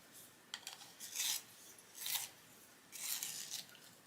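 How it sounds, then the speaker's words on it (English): A grape-coloured pencil is being sharpened in three separate bursts of close, dry scraping and rasping, each lasting about half a second, with quiet gaps between them. "I'm going to need to give it a sharpen."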